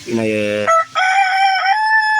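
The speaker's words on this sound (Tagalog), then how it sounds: "So ayan, mga kamanok natin." A rooster crows loudly and close by, a drawn-out cock-a-doodle-doo with a rough opening and a long ringing tail, among backyard chickens.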